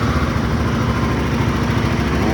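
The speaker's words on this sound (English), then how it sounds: "let's listen to the brand new engine" A brand new Royal Enfield Himalayan 450 engine, fitted with velocity stacks, is turned over by its starter motor with the clutch out. A loud, steady mechanical churning whir runs unbroken throughout, with no voices.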